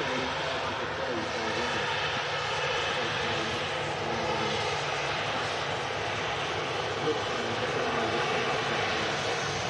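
An airliner arriving at Manchester Airport on a short flight from Belfast gives a steady, broad engine roar that holds evenly for about ten seconds without fading.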